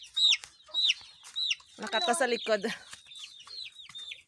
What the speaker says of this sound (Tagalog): O may kurungan para sa mga manok.